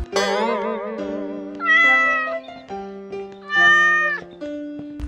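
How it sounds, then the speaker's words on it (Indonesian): A cartoon cat gives two drawn-out, wavering meows over a light musical backing of sustained tones, loud and close. "Kit-kit mengeong."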